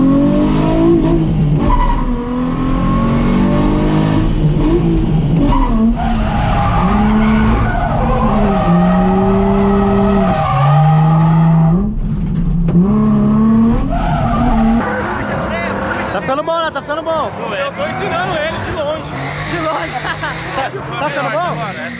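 A drift car on a competition track at a drifting championship skids through a slide with tires squealing as the handbrake is pulled, then the engine revs hard under acceleration, loud and sustained alongside excited crowd chatter and talk.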